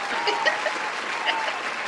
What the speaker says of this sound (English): That's not enough cheering.